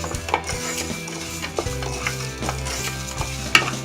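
Lentils dry roasting in a bare pan with no oil for sambar, a steady rustling sizzle with repeated scraping stirs and light clinks of a utensil against the pan, close and loud.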